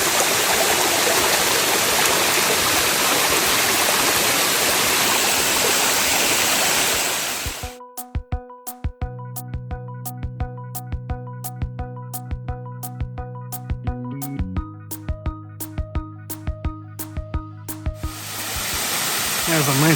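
A small waterfall pours over colorful rocks on Little Stony Creek, a steady broadband rush that cuts out abruptly partway, replaced by a clear repeating tonal music pattern before the water noise returns.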